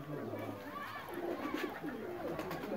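Sialkoti pigeons coo softly in low, throaty murmurs, faint and somewhat distant against a quiet background hum.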